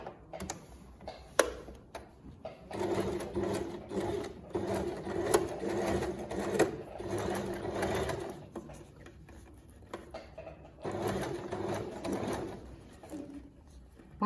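A sewing machine stitches facing onto fabric in quick bursts of rapid mechanical whirring, pausing between runs with light clicks and handling noise, close by and without talk.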